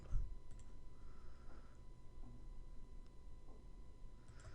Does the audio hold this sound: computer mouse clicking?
yes